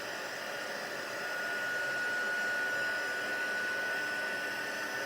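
A heat tool blows steadily over a paper card topped with gilding flakes, a continuous hissing fan roar that swells slightly and holds at a moderate level, with no voices.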